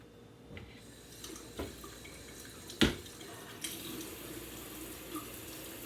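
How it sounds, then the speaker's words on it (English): Tap water runs steadily into a kitchen sink while hands are washed clean of egg, a soft continuous hiss with a few faint splashes and one louder knock partway through; there is no talking. "I want to wash my hands because they got egg all over it"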